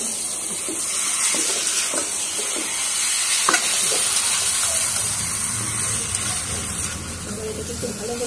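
Young chicken curry is fried and stirred in a pan, giving a continuous sizzle and hiss with scattered scraping and clinking stir strokes up close.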